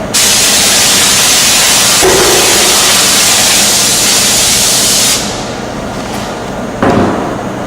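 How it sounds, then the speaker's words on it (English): A Wagner GM5000 electrostatic spray gun fitted with a round nozzle sprays in a loud, steady broadband hiss for about five seconds, then drops to a quieter rush with a brief burst near the end. "I'm going to show you the spray with the round nozzle on the recipe 1."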